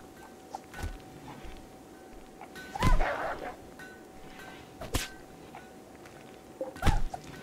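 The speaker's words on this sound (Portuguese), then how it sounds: "Nossa, eles fazem barulho de cachorro quando apanha" Creatures in the Rimworld video game let out short dog-like yelps while being hit, a few sharp bursts spaced out over quiet background game sound.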